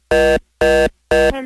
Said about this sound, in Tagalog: binaba yung telepono na